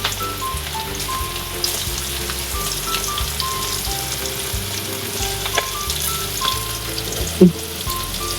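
Chicken 65 frying in hot oil gives a constant close sizzle and crackle, with a few louder pops and light clatter near the end and no speech.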